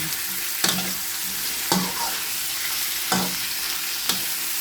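Shrimp sautéing with garlic and onion in a pan gives a steady, close sizzle, broken by four sharp scrapes of stirring at uneven intervals, with no voices.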